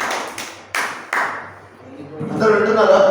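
A church congregation at a Thursday worship service claps in three sharp, evenly spaced bursts, followed by murmuring voices and room noise.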